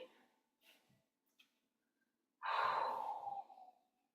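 Breathing during a Pilates leg-pedaling exercise with a foam roller: a few faint breaths, then one loud, close, breathy exhale of about a second that tails off.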